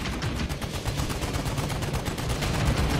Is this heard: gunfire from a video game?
yes